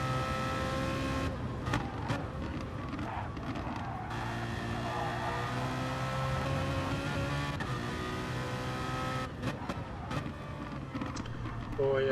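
Race car engines in a sim racing game, a Ferrari 458 and an M3 among them, whine and shift through gears, with sharp rev changes under steady commentary.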